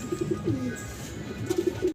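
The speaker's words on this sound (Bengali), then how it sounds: "রাশিয়ান রাশিয়ান গিরগিট, রাশিয়ান গিরগিট কবুতর" Low, throaty cooing of a Russian Girgit pigeon at a pigeon farm, in short repeated bursts, a few quick coos, a pause, then another run, close by with soft background noise.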